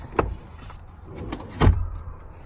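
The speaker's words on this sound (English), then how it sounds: "Quick look in the back, of course, the auto hatch." Power rear liftgate on a 2019 VW Atlas SEL SUV operating, a motorized whir with a few soft latch clunks and a firmer thud near the end, close and fairly quiet.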